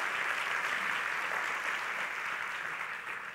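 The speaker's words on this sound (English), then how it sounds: "So big round of applause for Linda and Peggy and all of the girls from the team." Applause from a conference audience in a large room, a dense, even roar of many hands clapping that holds steady and tapers slightly at the end.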